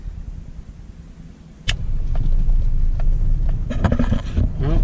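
A truck driving across a farm: a sudden thump gives way to a steady, close engine rumble with road noise, and some rattling and clatter build toward the end.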